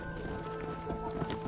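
Horse hooves clip-clopping steadily in Red Dead Redemption, a rhythmic clatter under a dense game soundscape with a faint tonal hum.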